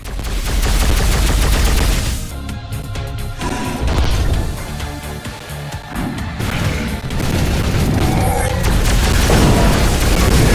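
A weapon in the retro VR shooter Overload fires in loud, booming bursts over a dense roar of game effects and music, with heavy impacts and crashing blasts continuing through the stretch.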